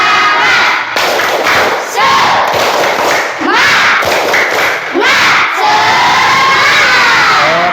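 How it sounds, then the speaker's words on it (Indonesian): A classroom of students loudly performs a rhythmic spirit clap chant, shouting in unison between bursts of clapping and thumps, energetic and close with crowd-like voices throughout. "Coba tepuk semangat dulu gimana?"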